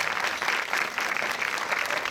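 Steady audience applause at a film-event opening ceremony in a cinematheque, a continuous wash of clapping at moderate level with no break.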